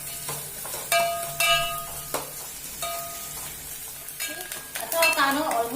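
Onion frying in a pan for an okra and prawn curry, a soft sizzle under the repeated scrape and ring of a metal spatula stirring against the pan, close and moderately loud, no talking.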